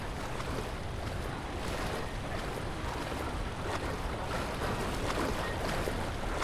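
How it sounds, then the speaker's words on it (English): Broad, continuous splashing and sloshing through water in the horror game Amnesia: The Dark Descent, a steady wash of noise filling the whole stretch with no voices. "Sound like you're still splashing around"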